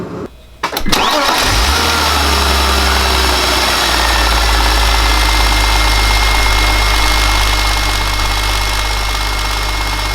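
A BMW E46 car engine cranks briefly and catches, then settles into a loud, steady idle that runs on evenly at close range.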